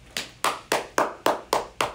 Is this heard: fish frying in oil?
no